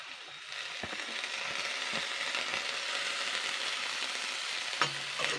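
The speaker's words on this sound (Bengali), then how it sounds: "এইবার আমি শাকটা দিয়ে ভালো করে নাড়াচাড়া করে নেব" A spoon stirs chechi shak, Bengali-style leafy greens, in a pan with a steady sizzle of frying, and a few sharp scrapes and knocks of the utensil against the pan come through.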